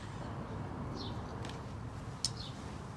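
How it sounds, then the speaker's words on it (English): Birds chirp outdoors in the background, a few faint, brief calls rising over a low steady ambient hum with no one talking. "So it might get loud with the competition of the birds in the background"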